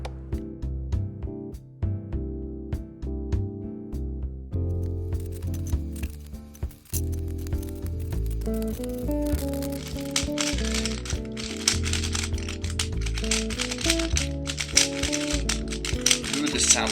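A mixed Dayan 3x3x3 speed cube being turned, giving a steady run of quick plastic clicks and rattles close up, with musical tones playing underneath throughout.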